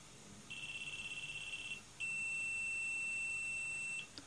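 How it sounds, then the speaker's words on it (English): A small stand-alone Atmega328 bootloader burner sounds a fast pulsing beep, then a short pause and one long steady high-pitched tone signalling completion, faint and close in a quiet room. "Long beep means done."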